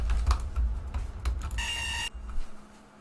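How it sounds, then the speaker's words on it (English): Rapid, irregular keyboard clatter as many keys are hammered at once on a computer, punctuated midway by a brief high electronic beep, with a low background hum underneath. "I'm pressing literally every button on the keyboard and none of them are doing anything"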